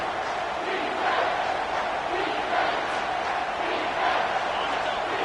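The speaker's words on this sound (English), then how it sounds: "This crowd rising up, sensing that its defense needs some help." A big football stadium crowd swells into a steady, loud roar of rising noise that holds throughout, with no break and no distinct voices standing out.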